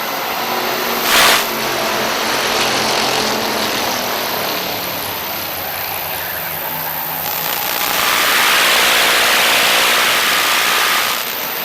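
Stock cars roar around a racetrack just after the green flag, a loud sustained blend of engines that swells and fades as the pack passes close, with one brief sharp burst early on.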